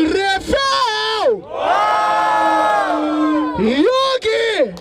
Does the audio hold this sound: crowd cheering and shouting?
yes